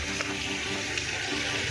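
Rainwater runs off and streams through channels in the Gir forest after an unseasonal downpour, a steady, close, continuous rush of flowing water with no voices.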